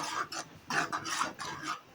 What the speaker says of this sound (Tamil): நல்லா கலந்து விட்டுக்கலாம் ஃப்ரெண்ட்ஸ்